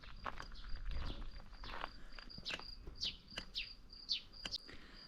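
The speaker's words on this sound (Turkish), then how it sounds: "Kuş sesleri." Repeated high bird chirps ring out outdoors near a bridge in Kayseri, Turkey, several short tweets spaced across the clip over a soft ambient background with occasional rustling.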